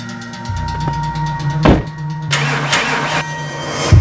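A faulty car starter cranks with a rapid rhythmic churn, then the engine catches with a loud burst and settles into a steady idle, close by and with no talking.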